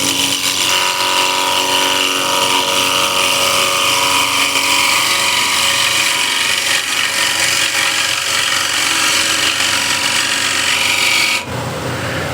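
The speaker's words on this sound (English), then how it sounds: "So one more time with the ball gouge here." Ball gouge cutting a wooden bead on a spinning wood lathe: continuous close scraping hiss of the tool against the turning wood with a steady motor hum, stopping abruptly near the end.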